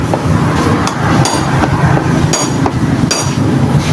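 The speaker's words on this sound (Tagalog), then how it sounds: "Tapos tinatsaga namin yang tutok-tukin." A rusted bolt is hammered in a loud, close, metallic pounding, sharp strikes landing at irregular intervals over dense clanking workshop noise.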